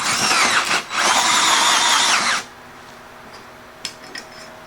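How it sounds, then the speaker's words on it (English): A power drill whirs loudly into wood for about two seconds, then stops, leaving quiet room noise and a couple of light clicks. "So I'm going to get the drill started."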